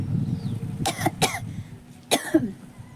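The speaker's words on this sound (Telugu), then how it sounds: "దగ్గు వస్తుందండి నాకు బాగా." A woman coughs in two quick bursts near the middle, then once more a moment later, close and fairly loud, with a faint throat-clearing quality against a quiet indoor room.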